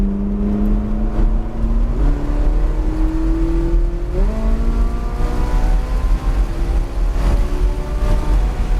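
A Ferrari accelerates hard down the straightaway at Palm Beach International Raceway, its loud, steady engine note climbing in pitch through two quick upshifts, with the car close and no other sound above it.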